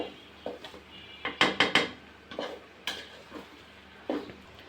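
Sweet zarda rice being stirred slowly in a pot, a series of scraping and clinking strokes of a spoon against the vessel, with a quick cluster of sharper knocks in the middle, close and moderately quiet.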